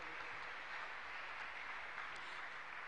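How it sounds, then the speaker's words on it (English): A church congregation claps their hands to God, a steady, continuous wash of many hands heard from a little distance. "I want us to clap our hands unto God of choosing"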